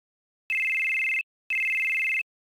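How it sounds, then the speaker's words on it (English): Telephone ringing in the Final Fantasy 7 video game: two identical electronic trills, each lasting under a second with a short gap, clean and isolated with no speech. "Are we getting a phone call?"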